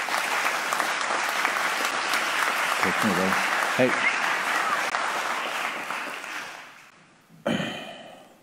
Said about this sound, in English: Let's give them a round of applause too,